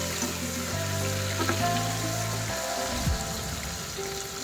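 Tomatoes sautéing in a pan for shrimp sinigang with banana heart, a steady close sizzle and crackle throughout, with a faint stir and no talk.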